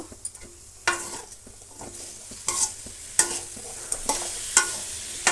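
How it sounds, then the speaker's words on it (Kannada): Cut bitter gourd pieces for a masala gojju are stirred and fried in hot oil, with a spoon scraping through the pan in repeated strokes over a steady sizzle, close and without talk. "ಹಾಗಲಕಾಯಿನ ಆಯಿಲಲ್ಲಿ ಚೆನ್ನಾಗಿ ಫ್ರೈ ಮಾಡ್ಕೋಬೇಕು"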